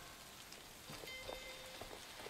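Soft, steady rain falls in the video game Superbrothers: Sword & Sworcery, a faint hiss with scattered light droplet ticks and thin chime-like tones.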